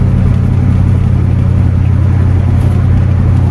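A 1974 Cadillac Superior Hearse cruising on the road at around 30 mph, with a loud, steady engine rumble and road roar heard from inside the cabin, without talking.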